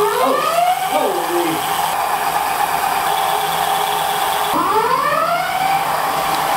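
Wired Freedom electric bike motor at full throttle, its whine climbing steeply in pitch over wind and road rush, dropping, then surging upward again, with a voice heard over it.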